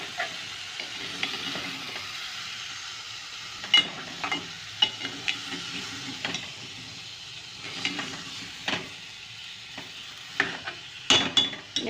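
Potato and cauliflower are stirred into spices in a frying pan, a soft continuous sizzle with intermittent scraping and clinks of a spoon against the pan, heard up close with no speech.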